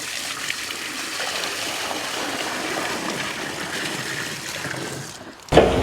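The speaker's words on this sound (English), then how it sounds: "So now, we fill the D-box full of water" Water trickles and splashes steadily into a septic distribution box in an outdoor install, a continuous near wash of flowing water that fades out briefly near the end before a louder burst.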